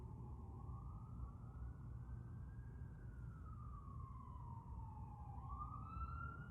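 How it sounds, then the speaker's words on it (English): Ambulance siren wailing in the distance, a faint rising and falling tone that sweeps slowly up and down over a steady low traffic rumble, with no voices. "that was an ambulance"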